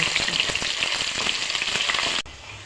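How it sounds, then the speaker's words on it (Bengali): Potatoes frying in oil with a little salt, a loud, close, continuous crackling sizzle that suddenly drops to a muffled quieter hiss just before the end. "সামান্য নুন দিয়ে আলুগুলো লাল করে ভেজে নিচ্ছি।"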